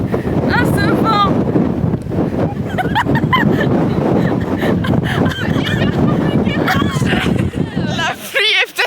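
Strong wind on a clifftop buffeting the microphone in a loud, continuous roar, with people talking excitedly throughout.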